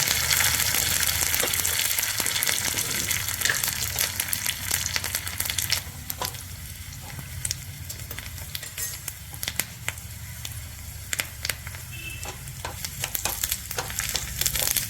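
Dried red chillies and curry leaves sizzle in hot oil in a home kitchen, a dense, continuous crackling hiss with fine sputtering pops that stays loud throughout the whole stretch, with no talk.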